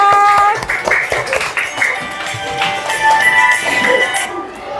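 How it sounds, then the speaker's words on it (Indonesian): Students in a fourth-grade classroom clapping together, a burst of uneven close applause with scattered voices and shouts mixed in, fading slightly toward the end. "tepuk tangan dulu buat semuanya"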